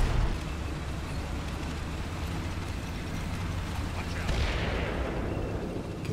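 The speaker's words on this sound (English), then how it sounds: "Redirected our artillery from the ridge line down onto the road where the Russian has stacked his vehicles." Artillery barrage pounding a road of stacked Russian vehicles in the Cold War strategy game Combat Mission, a dense continuous rumble of blasts with a brighter rushing swell near the end.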